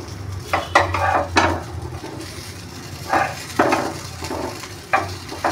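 Stuffed bitter gourd fries in a pan as the pieces are flipped, giving several close scraping and clattering knocks of utensil against pan over a soft sizzle.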